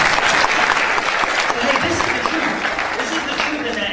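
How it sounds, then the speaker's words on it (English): Audience applause fills a church or sermon-style gathering, a dense steady wash of clapping that holds at an even level throughout, with voices mixed in beneath the clapping. "Give Chase a round of applause"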